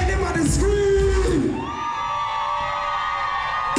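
Crowd at a live Caribbean music birthday bash screams and cheers loudly, a dense roar of yells and whoops that continues throughout, with a sustained high vocal tone riding over the noise.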